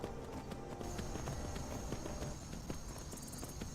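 Horse hooves in the Skyrim video game beat a steady, rapid clip-clop while riding, moderately loud and continuous with no talking.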